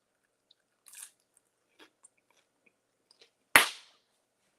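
A single loud, crisp crunch of teeth biting into a garlic butter pizza roll, close up and alone, with a few faint soft chewing and mouth sounds before it.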